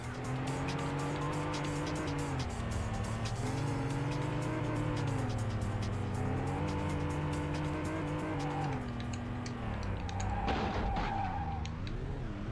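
A loose-handling race car in a PS1 racing game skids and spins, its engine droning with rising and falling pitch under continuous tire squeal, loud and steady throughout, with a sharper screech near the end.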